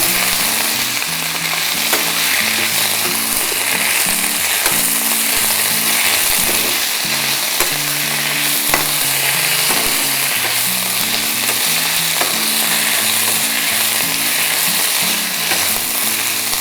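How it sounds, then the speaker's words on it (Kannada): Doddapatre (Indian borage) leaves frying in a pan crackle and sizzle loudly and steadily, with repeated stirring scrapes and clinks throughout and no voices. "ಇದರ ಬಣ್ಣ ಬದಲಾವಣೆ ಆಗುತ್ತೆ ಅದರು ಫ್ರೈ ಮಾಡ್ತಾ"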